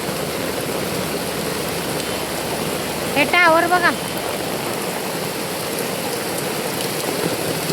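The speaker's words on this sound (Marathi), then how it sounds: "बघा पाऊस" Heavy rain pours steadily in Mumbai, a dense, even hiss filling the whole stretch, with a brief spoken phrase near the middle.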